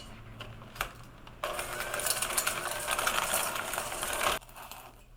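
A whisk scrapes quickly through 90 grams of butter and 150 grams of sugar in a bowl for brownies. After a couple of light taps comes about three seconds of steady, close, rapid scraping and clattering, then it stops.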